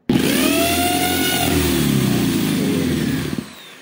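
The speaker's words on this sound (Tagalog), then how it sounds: "Nandito sa gawing kanan, nakaship siya sa drill mode. Ayan, bubutas po tayo." An impact drill set to drill mode whirs at high speed while boring a hole, a loud, steady motor whine held close for about three seconds before it winds down and stops.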